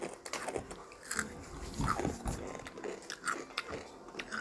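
Someone crunching on crunchy snacks, a steady run of close, crisp bites and chewing crackles at a quiet level, with no talking.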